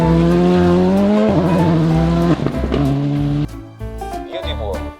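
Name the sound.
rally car racing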